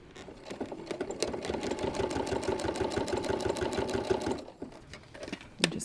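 A sewing machine runs steadily, stitching the fabric layers of a bow clutch bag for about four seconds with a dense, even needle rhythm, then stops, followed by brief handling clicks.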